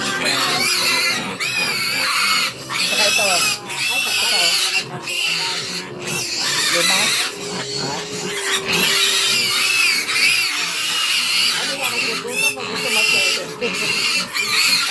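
Hungry pet pigs oink and squeal almost continuously at close range, with grunts and high squeals layered over one another, while people talk intermittently in the background.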